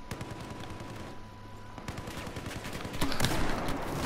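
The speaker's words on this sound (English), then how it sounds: "God, this grenade launcher is awesome." Grenade launcher firing in a video game, a rapid series of sharp sharp bangs and explosive bursts, close and loud, with a louder blast cluster near the end.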